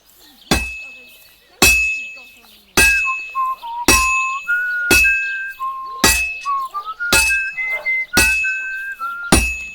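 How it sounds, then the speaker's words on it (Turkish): A hammer strikes metal in steady, evenly spaced clangs in video game smithing in Kingdom Come: Deliverance 2, about ten ringing blows, with a shifting whistle-like tone sounding between strikes. "Eşit bir şekilde her kısmına çekişle vuruyorum dikkat ederseniz."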